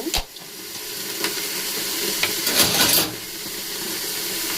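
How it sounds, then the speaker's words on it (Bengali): Vegetables fry under a lid on a medium-low flame with a soft, steady sizzle and hiss, broken by a few sharp clinks and a brief louder burst of steam. "আমি ঢাকা দিয়ে এগুলোকে ভেজে নেব মিডিয়াম টু লো ফ্লেমে"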